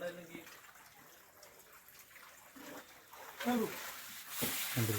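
Spring water runs and trickles steadily from inside a cave at Kocharikkal caves, Ernakulam, in the background while people talk nearby, the flow soft and continuous throughout.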